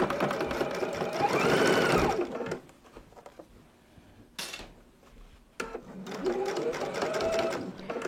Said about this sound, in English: Now all we're going to do is sew 3/8 of an inch right down this side and along this edge.